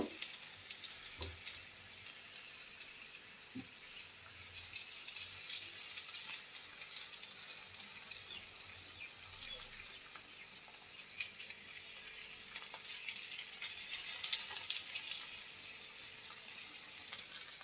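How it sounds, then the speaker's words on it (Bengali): Prawns frying with spices in a pan, a continuous close hiss and sizzle holding steady for the whole stretch, with occasional soft scrapes and small clinks mixed in. "অল্প আছে উল্টে পাল্টে চিংড়িগুলো মশলার সাথে একটু ভাজা ভাজা করে নেব"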